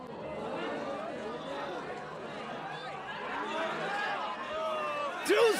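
Spectators at a wrestling match murmur and chatter as an indistinct crowd hubbub, a steady low babble of many voices at a moderate distance, with a brief louder vocal burst near the end.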